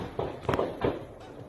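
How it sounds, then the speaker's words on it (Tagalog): Successive gunshots during an armed clash between soldiers and rebels in a village in Pamplona, Camarines Sur: three sharp reports about a third of a second apart, moderately loud over a steady outdoor background. "Umalingaw-ngaw ang sunod-sunod na putok ng baril"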